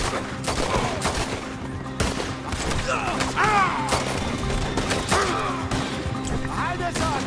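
Gunfire crackles through a cowboy shootout video game, with repeated sharp shots in bursts across the clip mixed with other game effects and voices talking over the action.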